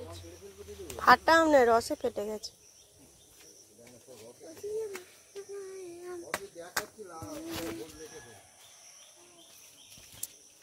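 Assorted birds calling outdoors, with coos and short chirps scattered faintly behind a person talking nearby.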